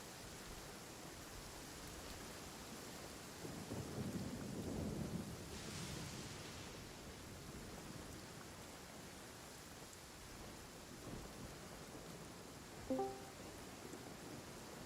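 Steady rain hiss in the video game Genshin Impact with a low rumble of thunder swelling midway, fairly quiet and continuous, no voices.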